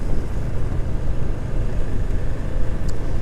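A Ducati Monster S4R motorcycle cruises along bumpy, badly cambered country lanes, its steady engine drone and wind rush holding at a constant level with no talk.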